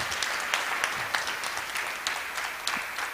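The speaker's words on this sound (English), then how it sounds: "Please give him a very big round of applause." Audience at a Gita recitation contest applauds, a steady patter of many hands clapping with a few sharper claps standing out, moderately loud.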